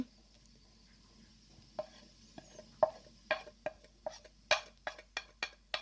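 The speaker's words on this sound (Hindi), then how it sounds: "तमाम चीज़ों को अच्छे तरीके से मिक्स कर लें" Spoon stirring yogurt mixed with crushed red chilli, turmeric, tikka masala, salt, dry coriander, garlic and ginger for chicken karahi, making a series of soft, irregular wet scrapes and clinks against the bowl that grow more frequent, with no talking.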